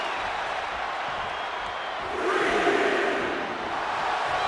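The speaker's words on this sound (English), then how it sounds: "The crowd is behind Shawn, and he knows it" An arena crowd in the WWE 2K26 wrestling game roars and cheers at a Survivor Series match, a dense sustained wall of voices that swells louder midway through.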